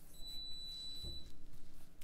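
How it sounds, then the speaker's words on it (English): A home dishwasher signals the end of its cycle with a high electronic tone that holds for about a second, followed by low room noise with no one talking. "I know that the dishwasher finished."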